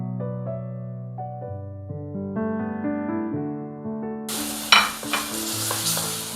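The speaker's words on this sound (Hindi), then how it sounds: "हम इसमें जो बैंगन हमने भुलभुला के मैश किए थे, हम उसको इसमें ऐड करेंगे।" Mashed roasted brinjal lands in a pan of frying onion and cumin and is stirred, a loud sizzle with scraping spoon strokes, heard after a stretch of steady background music.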